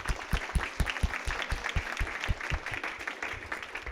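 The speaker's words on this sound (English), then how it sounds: "round of applause" An audience at a national security studies panel gives a steady round of applause, with dense overlapping claps at moderate volume and no talk over them.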